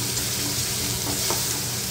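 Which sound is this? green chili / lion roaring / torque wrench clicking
green chili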